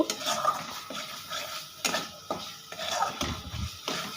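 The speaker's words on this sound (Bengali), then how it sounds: "মশলাটা তেল ছাড়া শুরু করেছে দেখো অলরেডি খুব সুন্দর কষা হয়েছে মশলাটা আর একটু কষবো" A spoon scrapes and knocks against a pan as spice paste (masala) is stir-fried for a prawn dish, a loose rhythm of close metallic scrapes and taps with a faint sizzle underneath.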